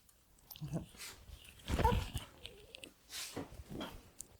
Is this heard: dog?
yes